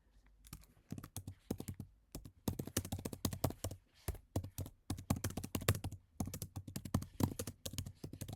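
Quick, close clatter of keys on a computer keyboard as someone types numbered list entries into a writing platform, irregular bursts of taps broken by short pauses, with no voices.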